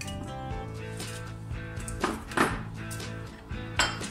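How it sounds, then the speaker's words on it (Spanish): Dried chiles and pepper tumble out of glass jars with a few light clattering rattles and taps against a container, faint and close, set against a soft background hum. "Ahora vamos a empezar a vaciar todos los ingredientes que tenemos en nuestros frascos. Los chiles y la pimienta."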